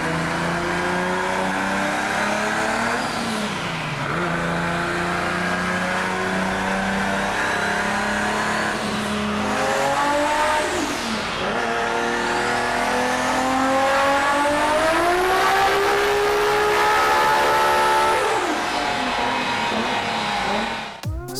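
A powerful car engine revs hard and continuously, rising and falling in pitch through several long sweeps. It is loud and close, with a whining, race-car-like tone and a brief squeal-like edge, played over a dyno run for modified Mazda MX-5s. No one speaks.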